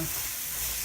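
Carrots for carrot halwa stirred in a covered pan after cooking on medium heat, a steady soft broadband rustle with faint sizzle throughout, brief and alone.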